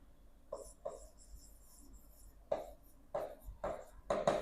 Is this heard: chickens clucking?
no